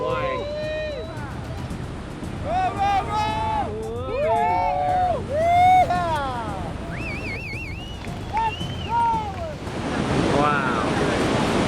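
Big-wave surfing with a jet ski towing surfer McNamara into a huge wave: a continuous roar of surf and wind, with excited voices and shouts over it, and the surf surging louder near the end.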